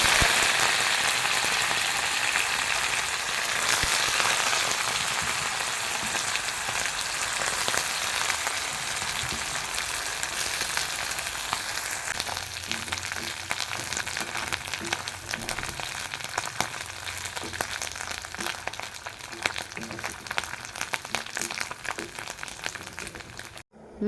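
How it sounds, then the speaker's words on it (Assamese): Dried fish fries in oil in a wok, giving a loud, dense, continuous crackle and sizzle like heavy rain that runs for about twenty-four seconds. "মাছখিনি ফ্ৰাই কৰি ল'লোঁ, আধা ভজা কৰি ল'লোঁ।"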